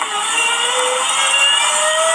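Car engine revving loud and close, a sustained high whining roar with steady pitch, heard alone without speech.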